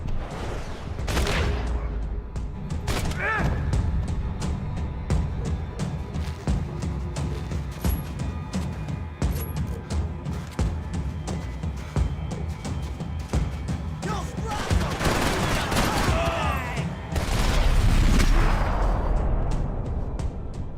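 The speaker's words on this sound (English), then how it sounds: "Gunfire over Hoboken." Rapid bursts of gunfire and heavy shots in the video game Max Payne 3, set over Hoboken, dense and continuous with louder blasts near the end.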